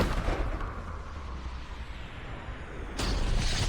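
Sniper rifle shot in the indie horror video game Sniper Killer, a dense booming blast with rumbling noise and a second sharp burst near the end, no talking.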